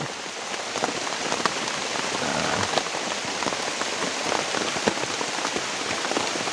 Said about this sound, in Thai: ฝนก็เริ่มซา ลงแล้วนะครับ